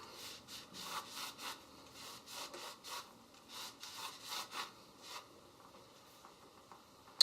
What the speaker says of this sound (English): now we're just going to follow it with some isopropyl rubbing alcohol and clean it up